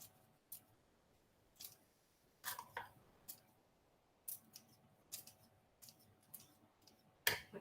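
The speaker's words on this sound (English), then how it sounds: "I might do this with scissors." Sharp scissor snips chop parsley in scattered bursts, a dozen or so quick clicks with short pauses between, close and fairly quiet, no talking.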